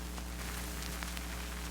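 A Korg synth's lo-fi effect gives a steady low hum under a dense wash of crackling vinyl-style static, constant and fairly faint, with scattered tiny ticks and no talk.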